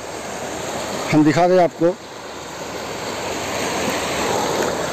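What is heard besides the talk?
strongly flowing river near Rani Mahal, Nepal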